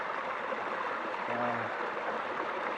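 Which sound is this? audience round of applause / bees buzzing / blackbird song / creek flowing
creek flowing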